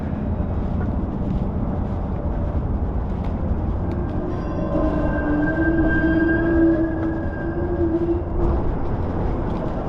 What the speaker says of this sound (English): That's your streetcars making noise over there.